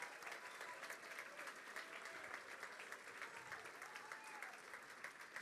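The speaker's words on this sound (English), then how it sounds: "will you please give a rapturous round of applause to 45 wonderful players from across the country" A hall audience gives sustained, even applause for 45 Ladies Gaelic football players nominated for the LGFA All Stars awards, steady dense clapping at moderate distance throughout, faint voices mixed in.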